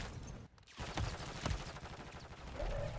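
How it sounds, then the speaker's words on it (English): Rapid gunfire from a ranked battle royale video game, a steady stream of shots and bursts throughout with a sharp louder crack near the middle, dense and fairly close. "One in front of you shooting at you."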